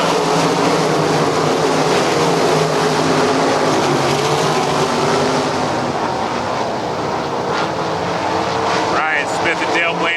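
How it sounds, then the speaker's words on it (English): Sprint cars racing at Lernerville Speedway, a loud continuous roar of engines from a pack of cars passing close, with an announcer calling the race over the noise. "Smith and Dale Blaney wheel to wheel down the backstretch for second"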